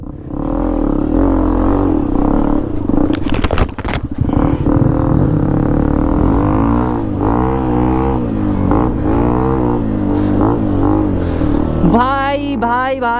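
A Hero XPulse 210 motorcycle climbs rough off-road ground, its engine revving up and down in repeated surges with clattering and scraping, loud and close, ending in a sharp burst of throttle.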